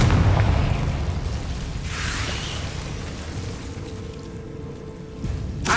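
A Confringo fire spell in Hogwarts Legacy explodes with a loud, rumbling boom at the start, followed by a sustained roaring, crackling wash that slowly fades, then a brief burst near the end.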